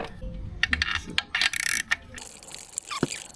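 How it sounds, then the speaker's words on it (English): Metal clicks and ratcheting as a starter motor is bolted down on a Land Rover Discovery 4 during an engine rebuild, close and sharp, with irregular taps and a burst of rapid clicks. "I can bolt it down."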